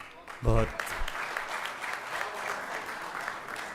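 Audience applause at a mushaira, a crowd clapping steadily after a brief voiced sound at the start, the clapping holding at moderate level throughout.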